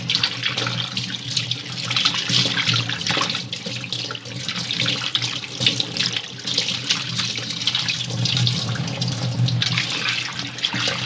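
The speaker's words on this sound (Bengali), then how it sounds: "দুবার তিনবার মাছটা ভালো করে ধুয়ে নিতে হবে, যাতে স্লিপারি ভাবটা চলে যায়।" Snakehead fish rinsed under a running kitchen tap, a continuous loud splashing gush of water into the sink with little variation; no talking.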